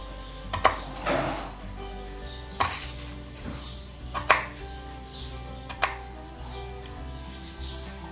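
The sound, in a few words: chopping vegetables finely with a knife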